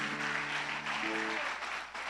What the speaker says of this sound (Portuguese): Você pode aplaudir o Senhor, querido, mais uma vez.